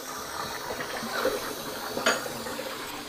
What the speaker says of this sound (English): So let me drain this for now.